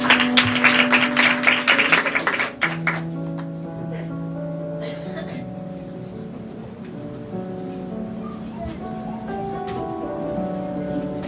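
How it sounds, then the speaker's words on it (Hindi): A church congregation gives a welcoming round of applause for a speaker at a sermon on Jesus's last words, loud clapping for about two seconds that fades into quiet with sustained music tones beneath. "तो हम जोरदार तालियों से उनका स्वागत करें"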